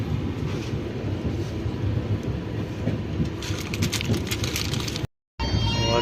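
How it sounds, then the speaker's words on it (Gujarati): Heavy monsoon rain heard from inside a moving passenger train bound for Mumbai, a dense continuous roar of rain and rolling rail noise blended together, steady and loud, broken by a brief dropout near the end. "વરસાદ ફૂલ ચાલુ છે."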